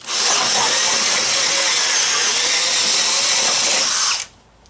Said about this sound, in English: I'm just finishing up drilling this hole.